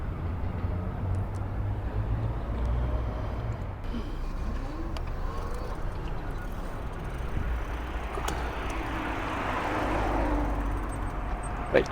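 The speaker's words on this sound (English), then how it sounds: "Wait for this traffic to go here." Street traffic near the Las Vegas F1 track being taken down: a steady low rumble of vehicles passing at a moderate distance, with one swelling pass toward the end.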